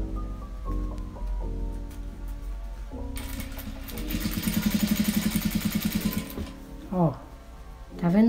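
A sewing machine runs a seam along a cloth diaper in a short rapid burst of evenly spaced stitches, surrounded by someone talking before and after.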